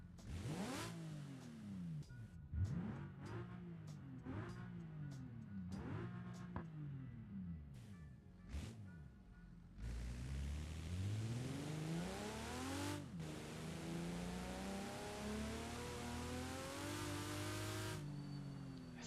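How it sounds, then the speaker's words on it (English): A 2-liter inline six car engine in a BeamNG game mod revs repeatedly in sharp rising-and-falling bursts, then holds a long climbing rev with gear-change dips, loud and close with no voices. "I'm working on the new sound here for the 2-liter inline six."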